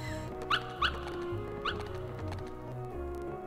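Puppies barking in the Kingdom Hearts video game, three short, high yips spaced apart over a steady game music background.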